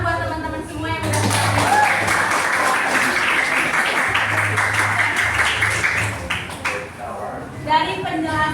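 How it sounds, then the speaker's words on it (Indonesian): Classroom applause for classmates, dense clapping from a group of students held steady for several seconds, fairly loud and close, with a voice speaking at the start and end. "Beri tepuk tangan buat teman-teman semua"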